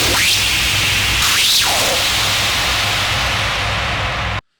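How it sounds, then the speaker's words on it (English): A hard techno screech synth built from a heavily distorted clap sample with a pitch envelope rises in two quick sweeping whooshes, then settles into a loud, dense, noisy roar over a low pulsing hum before stopping abruptly. "So this is this kind of screech that you can make."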